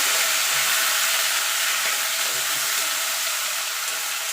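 Bay leaves and whole cumin seeds sizzle in hot oil at the start of a Bengali aar fish curry, a constant close, crackling hiss of frying that runs unbroken throughout.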